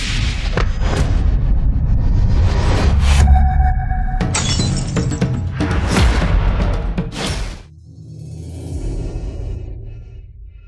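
An ancient mirror smashes to pieces, a loud crash of shattering glass with a heavy low-end impact, followed by scattered tinkling debris settling and a fainter rumble at the end.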